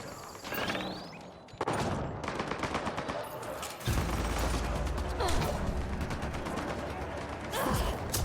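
Automated turrets open fire on enemy troops during combat in Mass Effect: Andromeda, with dense, continuous bursts of gunfire and heavy impacts that intensify partway through and fill the whole stretch.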